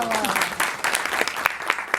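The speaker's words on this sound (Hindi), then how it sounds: "तो इस बार जोर से तालियां बजा दीजिए।" Audience at a Hindi poetry recital breaks into brief loud applause, dense clapping under a speaking voice.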